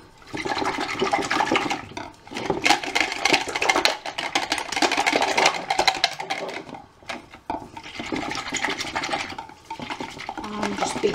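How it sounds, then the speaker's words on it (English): Whisk beating six eggs in a bowl, a fast scratchy rhythmic clatter in bursts with brief pauses, loud and close, no speech. "And now I'm just going to beat the eggs up."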